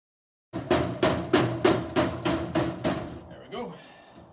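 A hammer strikes a wooden board about nine times in a quick, steady rhythm, each sharp knock close and ringing briefly before a short scrape ends the sequence.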